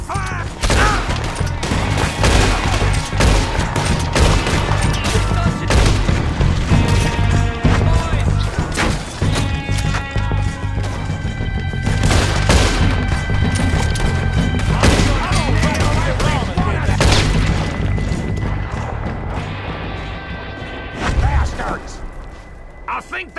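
Rapid bursts of gunfire and heavy impacts fill a Red Dead Redemption 2 shootout against O'Driscoll gang members, loud and continuous throughout with shouted voices mixed in.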